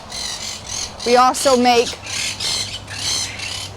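Blue and gold macaws squawk loudly in a backyard aviary at a bird shop, a few harsh overlapping calls bursting out near the middle while a person talks over them and other birds chatter around.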